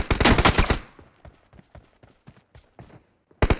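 Gunfire in the mobile game BGMI, a rapid loud burst of automatic shots, then a string of fainter, spaced single cracks before another loud burst at the end; no talking.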